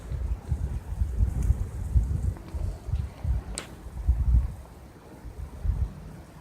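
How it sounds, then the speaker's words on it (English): Wind buffets a microphone outdoors, producing uneven low rumbling gusts that rise and fall throughout, fairly faint overall, with no speech. "If I can get out of the wind."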